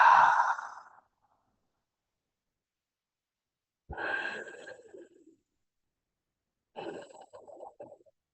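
Three separate breaths during pranayama practice, beginning with a long, full exhalation. Two softer breathy sounds follow after pauses of silence, all close and quiet.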